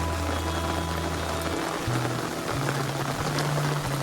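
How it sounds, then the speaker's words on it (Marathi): Heavy rain falls at sea during a fishing trip, a constant loud hiss with a steady low droning hum running beneath it. "पाऊस बघा किती आलाय"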